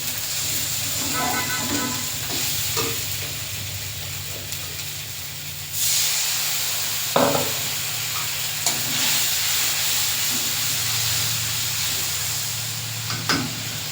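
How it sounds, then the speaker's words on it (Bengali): Spice paste for a village-style fish curry with black cumin paste fries in hot oil, a steady close sizzle and hiss broken by occasional scrapes and clatters of stirring. "মশলাটা ভালো করে কষে নিই"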